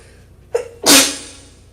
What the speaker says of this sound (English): I start sneezing.